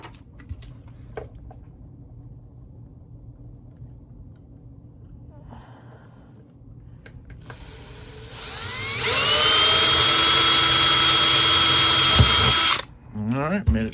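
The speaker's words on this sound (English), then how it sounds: "just to try and get the drill bit through" A power drill bores through a small die-cast Hot Wheels toy car, a loud steady high whine starting around the middle and holding for several seconds before cutting off, with quieter handling noise before it.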